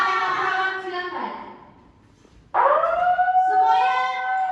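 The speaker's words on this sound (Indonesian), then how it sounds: "nanti jika terdengar suara sirine, silakan untuk menyelamatkan diri" A siren sounds during an earthquake evacuation drill at a nursing college in Jombang, its loud harmonic wail sweeping down, fading to a lull, then jumping back up and holding high and close.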